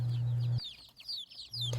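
Ameraucana (green-egg) chicks give rapid high peeping chirps, a few short calls close by, with a low steady hum starting and stopping around them.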